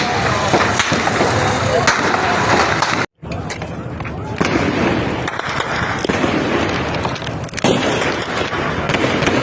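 Crackling gunfire and popping reports amid a moving rally convoy, dense and continuous with sharp cracks over crowd noise and voices, briefly cut off once before resuming loudly.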